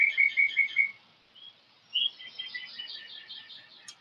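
Birds chirp outdoors along a nature trail, with a bright, rapid trill at the start, then a pause before more repeated chirping phrases, clear and fairly near with no talk.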